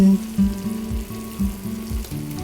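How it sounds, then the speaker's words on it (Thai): Sichuan chili chicken being stir-fried in a pan: a steady sizzle broken by rhythmic scraping and stirring strokes, close and fairly loud, with no voices. "ผัดให้นานหน่อย มันจะได้ คลุกเคล้าให้ทั่วถึง"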